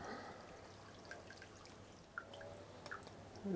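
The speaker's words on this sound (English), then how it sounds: "And in goes the concentrated chicken stock, right on top." Concentrated chicken stock is poured on top of diced tomatoes in a fish stew pot, making a faint, close trickle of liquid with a few soft drips.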